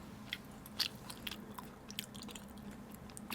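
Someone chews salmon sushi close to the mic with soft, wet bites and squishy mastication. A few sharper clicks stand out over quiet background hum.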